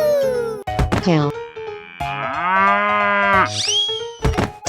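A cow in a 3D animal sliding video game lets out a loud, drawn-out moo over game music and sound effects, close and prominent.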